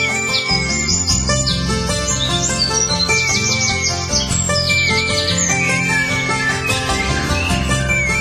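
A koel's bright, repeated chirping calls ring out over a busy, upbeat children's nursery-rhyme backing track, fairly loud throughout.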